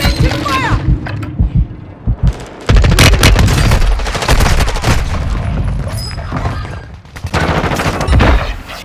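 Loud Call of Duty MW3 Warzone gunfire, with rapid automatic bursts and single heavy shots rattling close by across several seconds, mixed with booms and mechanical clatter.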